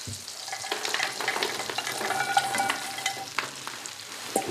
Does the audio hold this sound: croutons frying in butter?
yes